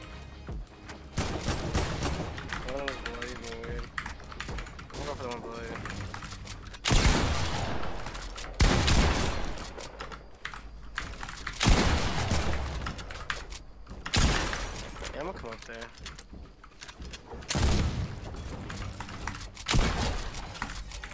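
Repeated bursts of AK rifle fire in a competitive first-person shooter game, sharp broadband volleys arriving in clusters every few seconds, loud and close, with faint keyboard clatter between them.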